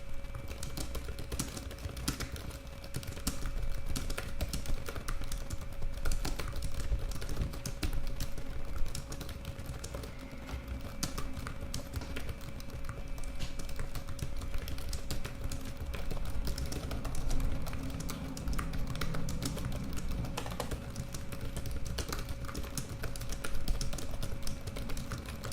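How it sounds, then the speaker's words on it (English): Continuous, fast typing on a Razer Blade 15 2020 base model laptop keyboard during a Monkeytype speed test, steady clicky keystrokes, close and fairly loud, no voices, running the whole time. "here is a just nice little keyboard sound test with a monkey type speed test"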